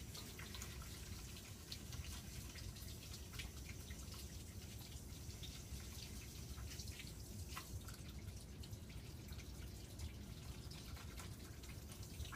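A sink tap runs steadily during handwashing before a head-to-toe patient exam, a continuous close stream of water with light splashing and drips throughout.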